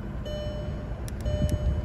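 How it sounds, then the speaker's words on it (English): 2002-2005 VW Golf chirps as a new Megamos ID48 key fob is programmed on board, a few short high beeps close by over a steady hum. "So as you guys see, the car beeped."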